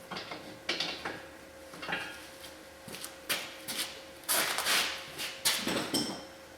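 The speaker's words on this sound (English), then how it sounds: "using a gear wrench for this back one here" A gear wrench ratchet snugs rocker guard bolts on a 2023 Polaris Ranger 1000XP Crew, giving quiet, close clicking ratchet strokes in irregular bursts with faint metallic handling between them.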